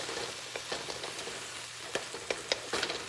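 Butter sizzling in a pan with steak, a soft, steady fry broken by a few sharp clicks and scrapes of stirring near the end, fairly quiet and with no voices.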